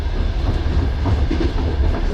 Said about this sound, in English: This train is all made from wood.